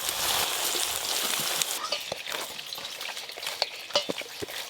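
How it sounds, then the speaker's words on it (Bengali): Potatoes frying in hot oil make a steady, close crackling sizzle with a busy hiss that runs throughout, broken by small sharp pops and faint clinks of a utensil. "তেল গরম হয়ে গেছে, এবার আলুগুলো ভেজে নেবো"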